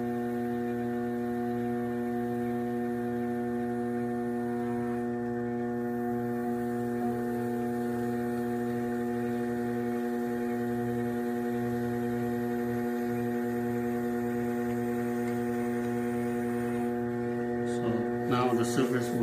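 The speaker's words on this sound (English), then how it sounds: "Spin the wheel fast." A pottery wheel spins fast while a mug is trimmed, giving a steady, continuous electric motor hum with stable tones throughout and faint scraping near the end.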